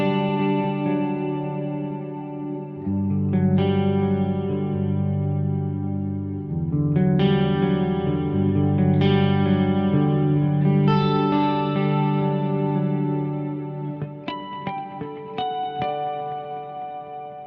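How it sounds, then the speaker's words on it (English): Electric guitar played through a Fractal Audio FM3 modeler with a lush chorus and Plex delay, sustained chords and melodic lines shimmering with trailing echoes, steady and full with no voices. "Nailed that chorus sound. If you add the Plex delay along with the chorus,"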